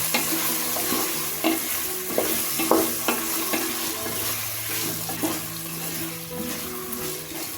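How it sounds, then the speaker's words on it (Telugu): Carrots and sliced beans frying in a pan for vegetable pulao, a steady sizzle with scattered clinks and scrapes of a spoon stirring, close and alone with no talk. "పది బీన్స్ని ఇలాగ నిలువుగా కట్ చేసి వేసుకోవాలి ఇదంతా రెండు నిమిషాల పాటు వేయించుకోవాలి"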